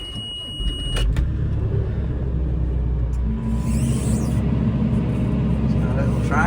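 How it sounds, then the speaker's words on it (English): A JCB machine on a farm starts up, its diesel engine catching after a short crank and settling into a loud, steady rumbling idle that continues throughout. "Start the JCB up."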